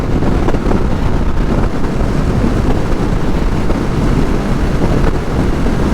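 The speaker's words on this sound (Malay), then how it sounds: "Telefon sekarang ni angin laju, angin kuat dekat luar" Strong wind buffeting a phone microphone outdoors, a loud continuous rumbling roar with gusty fluctuations and no voices.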